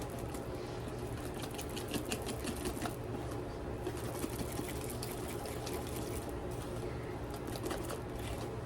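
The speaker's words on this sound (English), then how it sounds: "Then I'm going to whisk this again." A whisk beats cornbread batter mixed with vanilla in a bowl, making a faint, steady, rapid clicking and swishing that runs without a break.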